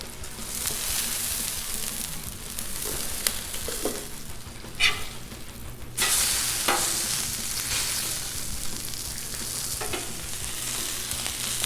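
Hash browns frying crispy on a Blackstone griddle, a constant close sizzle broken by occasional scraping and spatula taps, with the hiss swelling louder partway through, and no voices.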